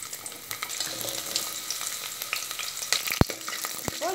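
Mustard seeds and small shallots fry in hot oil for a garlic and curry-leaf kuzhambu, giving a steady crackling sizzle with scattered pops and the scrape of stirring, close and fairly quiet.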